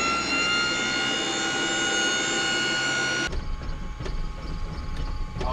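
An aircraft engine pre-oil system whines in a loud, steady high-pitched drone for about three seconds, then cuts off abruptly and leaves a lower mechanical rumble with faint clicks.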